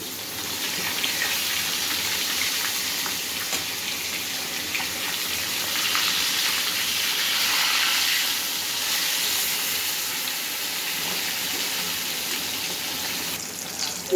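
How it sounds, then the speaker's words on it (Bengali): Large puti fish frying in hot mustard oil for a spicy fish curry: a steady, dense sizzle and crackle that holds fairly loud and even throughout, with no talking. "তেলটা গরম হয়ে গেছে, এবার মাছটা ছেড়ে দেব।"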